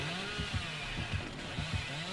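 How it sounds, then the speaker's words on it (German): Chainsaw of the killer in the video game Dead by Daylight, a low engine drone with rhythmic revving pulses about every half second, moderately loud and alone. "Hier ist der Kettensägenmann."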